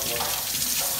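Cold water runs steadily from a tap into a sink in a home during a snowy California winter storm. The flow is close and continuous, a broad hiss with no break for about a second.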